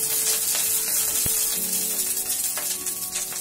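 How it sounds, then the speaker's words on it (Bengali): Green chillies fry in a pan with a steady, bright sizzling hiss, close and fairly loud, broken by a sharp click and faint tonal hums in the background. "এখন আমি এটাকে ভেজে নেব।"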